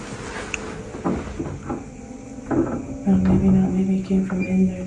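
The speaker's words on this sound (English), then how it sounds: "It was the door." An old door in an abandoned asylum lets out a loud, drawn-out squeak at close range, rising near the end of a quiet stretch with faint shuffling and a few soft knocks before it.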